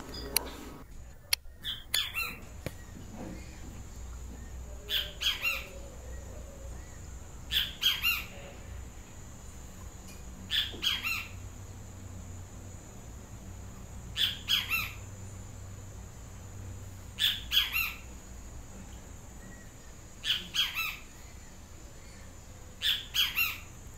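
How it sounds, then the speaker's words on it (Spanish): Great kiskadee (benteveo) calls in repeated bursts of sharp, shrill squawking notes. Each burst lands about every three seconds over a faint outdoor background, with no talk. "este pájaro, conocido también con el nombre de venteveo"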